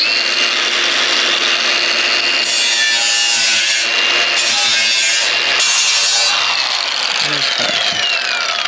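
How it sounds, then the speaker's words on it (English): A buffing wheel trims and buffs metal on a supercharged 1967 Chevy C10, making a loud, continuous high whine and grinding rasp that shifts in pitch as the workpiece is pressed on and eased off. "It's gonna need some trimming, some buffing. Let me get ye old buffing wheel."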